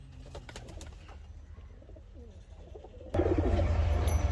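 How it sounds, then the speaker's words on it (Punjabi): Pigeons from a prized loft collection coo softly at close range, low murmuring calls repeating over steady background noise, before a sudden louder burst of broadband noise takes over near the end. "ਮਾਸ਼ਾਅੱਲਾ ਬਹੁਤ ਅੱਛੀ ਕਲੈਕਸ਼ਨ ਹੈ ਇਹਨਾਂ ਕਬੂਤਰਾਂ ਦੀ"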